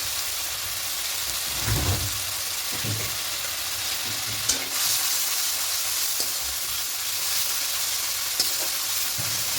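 Spice paste and turmeric sautéing for a mustard fish curry make a continuous hiss and sizzle, with a few low stirring thumps and scrapes in the pan and no voices.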